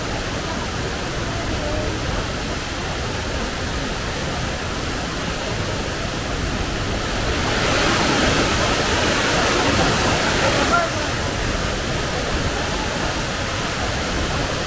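Taytay Falls in Laguna, Philippines, pours down in a steady, full-band roar of rushing water, constant throughout and swelling a little louder for a few seconds midway.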